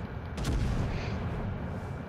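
Battleship guns fire high-explosive shells from a King George V build in the naval combat game World of Warships: Legends. One heavy booming salvo sounds early, then dense rumbling battle noise carries on throughout.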